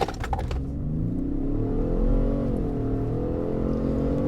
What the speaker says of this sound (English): So let's take a launch on the new hybrid.